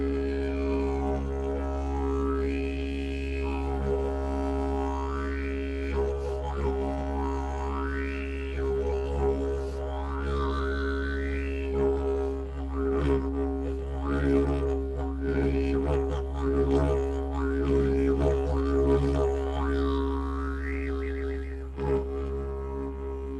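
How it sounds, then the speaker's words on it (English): A deep droning didgeridoo plays continuously, its low buzzing fundamental steady while rhythmic vocal-like swoops and overtone sweeps rise and fall above it. "That's the sound of the didgeridoo."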